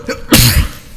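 One sharp, loud sneeze bursts out close by after a short inhaling catch, at a tabletop roleplaying game session at a convention.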